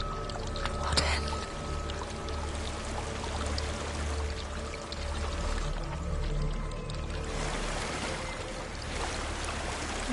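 Water flowing steadily through a dark setting in Hellblade: Senua's Sacrifice, a continuous broadband rush with a low rumble, moderately loud and unbroken throughout.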